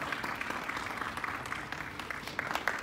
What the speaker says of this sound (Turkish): Teşekkür ederim, beni alkışlıyorlar.